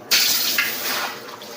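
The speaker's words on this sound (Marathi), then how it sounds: "आता याच्यामध्ये मी पाणी ओतणार आहे" Water pours from a container onto soaked sorghum, a close, steady gushing splash that starts abruptly and runs on for about a second and a half before easing slightly.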